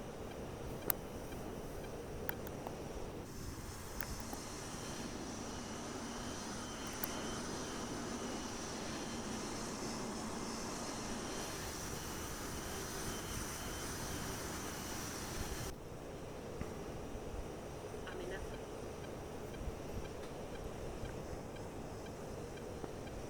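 Mirage F1 jet engine running at steady RPM just below afterburner in a flight simulator cockpit, a continuous broadband roar with a constant high whine that shifts slightly partway through, no talk.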